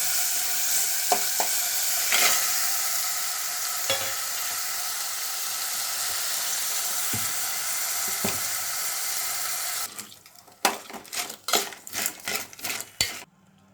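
Crabs dropped into a pan of ginger garlic paste, a steady loud sizzle and frying hiss for about ten seconds, then a sharper sequence of stirring scrapes and clinks against the pan.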